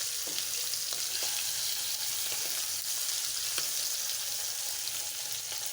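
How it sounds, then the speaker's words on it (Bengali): Hilsa fish frying in mustard oil in a pan, a steady dense sizzle with faint crackles and pops, continuous and close throughout with no talking. "রান্নাটা আমি সরিষার তেল দিয়ে করতেছি"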